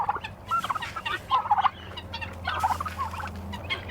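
Guinea fowl on a farm give repeated raspy, chattering calls in short bursts, fairly close, over a low steady background hum, with no talking.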